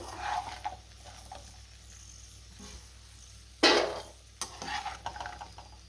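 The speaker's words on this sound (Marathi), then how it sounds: "गॅसची फ्लेम मिडियमवर ठेवूनच आपल्याला ड्रायफ्रूट्स परतून घ्यायचे" Cashews, almonds and pistachios are turned over medium heat in a pan, producing soft rustling and scraping stirs with a louder clattering scrape partway through, fairly quiet overall.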